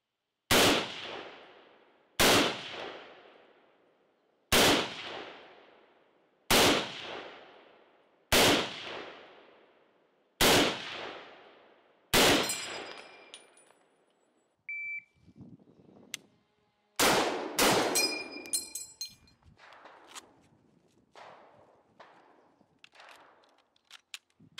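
An M1 Garand rifle fires seven loud, sharp shots at an even pace, each echoing away, followed by metallic clatter and a further burst of quick, ringing reports and clinks.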